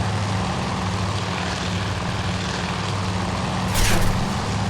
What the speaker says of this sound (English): Look at all the planes in the air.